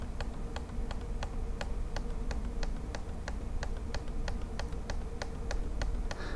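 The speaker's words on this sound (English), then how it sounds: "you can strike the return key, you even hear the sound" The return key of a faulty 2017 MacBook Pro keyboard is tapped over and over at a steady, quick rhythm, each click sharp and light against a faint background hum.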